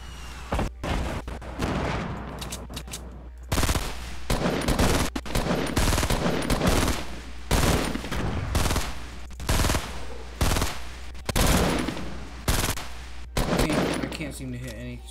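Gunfire rattles in the video game Fortnite: rapid, loud bursts of shots repeat in uneven clusters across the stretch, with occasional voices between them.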